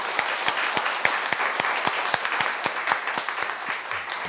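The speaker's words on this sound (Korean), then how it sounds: "우리 함께 큰 박수로 이렇게 환영하겠습니다." A church congregation claps warmly to welcome its elders during a Sunday worship service, a dense, steady applause with sharp individual claps standing out, filling the room without any talking over it.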